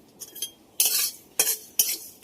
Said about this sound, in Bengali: এটাকে আমি ভালো করে নেড়েচেড়ে ভেজে নেব।